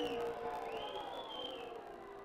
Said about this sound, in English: Crowd very animated.